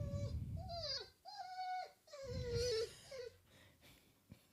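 A dog whimpers in a series of high, drawn-out whining cries with short pauses between them, fairly close and clear, with no talking.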